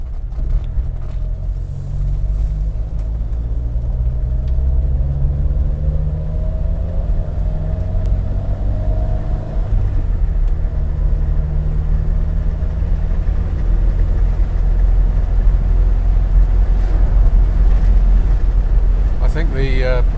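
A Triumph Herald 13/60 convertible drives briskly along country lanes, its engine a loud, steady rumble with changing revs and rushing wind throughout.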